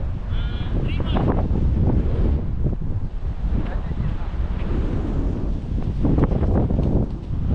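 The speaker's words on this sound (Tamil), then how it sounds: "காத்துதான் மதியம் வரைக்கும் காத்துதான்." Wind buffeting the microphone outdoors at a cricket match, constant loud low rumbling gusts throughout, with muffled voices faintly underneath.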